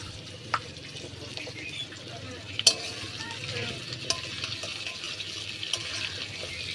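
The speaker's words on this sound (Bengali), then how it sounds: "দেন এইগুলোকে খুব ভালো করে ভাজা করে নেব" Garlic, onion, chili and nigella seeds fry in a pan with a soft continuous sizzle, broken by sharp clinks and scrapes of stirring, close-up and without speech.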